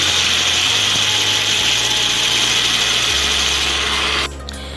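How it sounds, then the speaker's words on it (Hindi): A home electric blender whirs steadily as egg, vinegar and cooking oil emulsify into thick mayonnaise, a loud continuous motor drone with slight pitch steps that cuts off near the end. "मशीन को उस वक्त तक चलाना है जब तक आपको इस तरह की थिक इसकी वो ना नज़र आ जाए, पेस्ट सा ना बन जाए"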